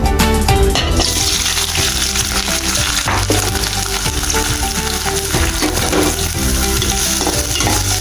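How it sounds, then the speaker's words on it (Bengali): Loud, steady sizzling of spices frying in hot oil, a dense crackling hiss that runs unbroken throughout, with occasional clinks of a utensil stirring. "তেলটা গরম হয়ে গেছে। আমি এখন এর সাথে সব একসাথে করা তেলের মধ্যে ঢেলে দিব।"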